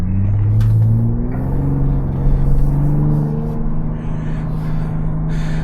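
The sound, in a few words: 2026 Ford Bronco Raptor engine accelerating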